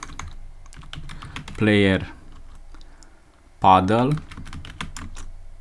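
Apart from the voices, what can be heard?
typing on a computer keyboard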